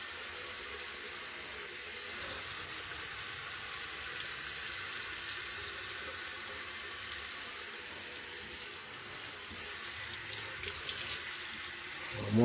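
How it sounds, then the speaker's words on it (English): Cold water runs steadily from a bathroom sink tap onto a towel, a continuous close hiss and splash with no talking. "you're gonna take some of this cold water"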